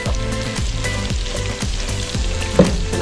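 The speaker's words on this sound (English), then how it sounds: "Try to keep stirring it so that garlic doesn't burn." Garlic sizzling and frying in a hot pan, loud and close, with repeated scraping strokes of stirring giving a steady rhythmic pattern and a small clink near the end.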